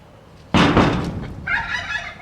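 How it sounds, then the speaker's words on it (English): A backyard turkey answers a sudden noise with a loud, close burst of gobbling, followed by a higher, rapid warbling call that trails off. "The secret noise to make your turkey talk."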